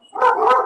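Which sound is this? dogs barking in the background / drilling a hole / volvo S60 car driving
dogs barking in the background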